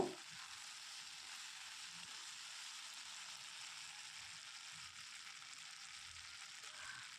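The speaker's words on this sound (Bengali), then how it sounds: "খুব ভালো করে এটা একটু নেড়ে চেড়ে কষিয়ে নেব" Masala for a bata fish curry with spring onion stir-fried in a pan, giving a steady, soft, continuous sizzle with no voices.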